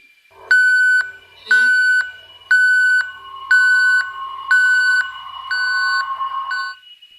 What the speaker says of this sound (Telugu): అప్పుడే ఒక్కసారిగా కాల్ బెల్ మళ్ళీ రింగ్ అయ్యింది.